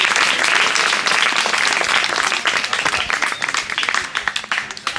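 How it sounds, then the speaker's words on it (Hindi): Loud, sustained applause from an audience at a school honours ceremony in Birohad for merit students and their Class 12 results, steady at first and thinning into scattered claps by the end. "इनके लिए जोरदार तालियां भाई।"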